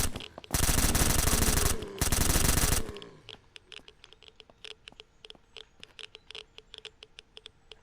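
Loud, dense full-auto gunfire rips out in two long bursts in the zombie survival video game SurrounDead, then cuts off, leaving a trail of faint clicks and light tapping noises.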